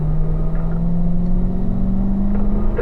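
A race car engine holds a steady, loud droning note in third gear on a track straightaway, a continuous close rumble with a slight rising pitch and no talking.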